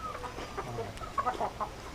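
Chickens cluck on a farm where big turkeys are also kept. There are soft, scattered clucks and short calls at a moderate distance, with a little louder burst in the middle.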